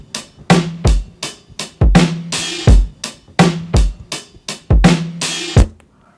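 Lo-fi drum beat with pitched-down drums in Ableton, a repeating loop of low, thumpy kicks, snappy snares and crisp hi-hats in a steady laid-back groove, close and clear with no talking.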